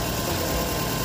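The engine of a 2003 Suzuki Aerio car idles with a steady, even hum and faint vibration, heard close and without pauses.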